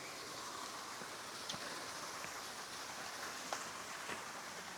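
Steady rain falling outdoors along a rural trail to Curug Cibulao waterfall, a fairly quiet, even hiss with a few faint drop ticks.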